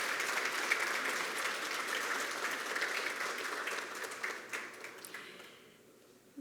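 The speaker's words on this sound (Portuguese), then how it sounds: "Uma salva de palmas aos nossos homenageados." Sustained applause from a seated audience at a formal Brazilian swearing-in ceremony honoring award recipients, steady and fairly distant, fading out over the last second.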